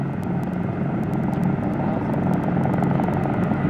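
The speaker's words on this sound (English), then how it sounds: "Here's Martin Mars bomber loading." The propeller engines of a Martin Mars water bomber drone steadily with a fast pulsing beat while it loads water for firefighting, loud and continuous without a break and with no voices.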